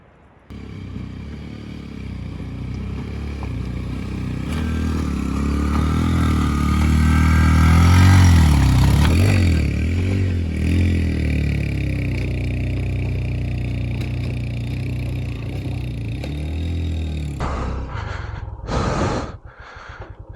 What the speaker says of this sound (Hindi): अब मैं अपनी बाइक लेके आऊँगा वहाँ से।